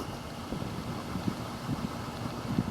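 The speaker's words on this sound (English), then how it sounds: "It's windy and warm." Warm wind blowing outdoors around a late-1960s gable-roofed house in Dallas, a steady broad rushing with soft gusty buffeting on the microphone and no talk.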